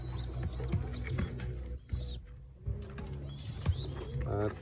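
Racing pigeons coo softly at close range in a short series of low warbling calls, with a few rustles and brief chirps in between.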